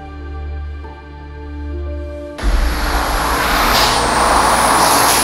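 A turbocharged Toyota Mark X 350 sits idling with a low, harmonic hum, then abruptly revs hard into a loud, broad engine roar with a high turbo whine that rises and holds steady.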